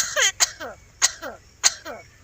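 A myna bird mimics a person's cough, giving four short, harsh, close bursts spaced apart, with no one talking.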